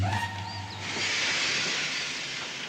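A cartoon steam train lets out a broad, steady hiss that swells after a brief whistle-like tone and holds loud and close for a couple of seconds.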